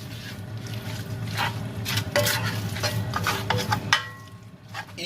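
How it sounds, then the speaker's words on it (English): Oil bean and red bean porridge stirred in a pot for Nigerian akidi and ukpa, a steady scraping and sloshing with a low background hum, moderately loud and close, with no talking. "You stir everything to combine."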